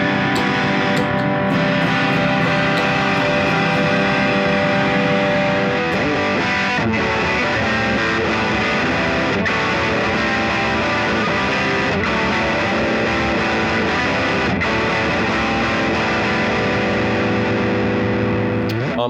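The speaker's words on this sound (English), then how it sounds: "when you use the Bagel Overdrive as a distortion, or a boost pedal rather, it gets even crunchier." Electric guitar played through an Effects Bakery Bagel Overdrive pedal used as a boost into distortion, giving a loud, crunchy, sustained tone with chords ringing and changing throughout.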